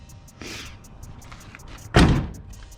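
A car door on a car under restoration is pushed shut, a soft first contact followed by a heavier solid thud, close by with no talking.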